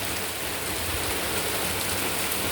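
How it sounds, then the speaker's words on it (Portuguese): Heavy rain pours down in Cícero Dantas, Bahia, as a dense, steady, loud hiss that continues without a break and has no voices. "Muita chuva aqui agora em Cícero Dantas."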